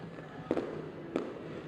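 A fireworks finale over a ballpark on an Oklahoma City opening night sounds as a steady, distant rumble, with two sharper bangs popping out of the continuous wash.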